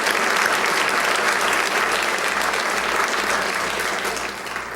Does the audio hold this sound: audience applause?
yes